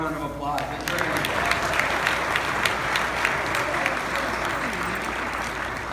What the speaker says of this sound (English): And give Jeff a round of applause.